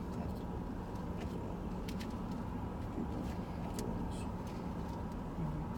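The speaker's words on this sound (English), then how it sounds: "Traffic's ridiculous." Heavy road traffic rumbles steadily as cars pass, a continuous low wash of engine and tire noise with no talking.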